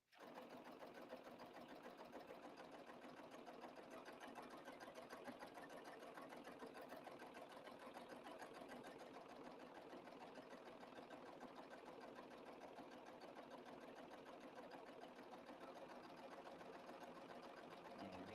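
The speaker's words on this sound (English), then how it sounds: "I'm gonna stitch a little slower than I did the last time" A serger sewing machine stitches fabric slowly around a curve on a pillow sample, its steady rapid whirring and needle clatter running close and continuous throughout.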